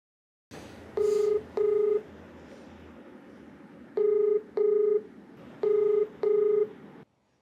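Telephone keypad tones sound in three pairs of two short beeps, clear and even, over a steady low hum with no talking.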